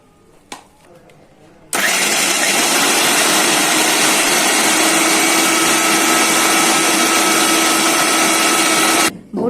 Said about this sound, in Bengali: এখন মাংসটাকে ছাড়িয়ে পরে ব্লেন্ডার করে নিব।